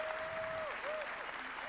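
Keynote audience at a Munich cloud technology summit applauding, a brief dense patter of clapping with faint tonal sounds drifting through.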